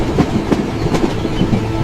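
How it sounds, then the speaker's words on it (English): A train rattles southward through countryside, a steady dense rumble with faint rhythmic clicks of wheels over rail joints, continuous and fairly loud with no voices. "The train from Paris rattled southward through the French countryside."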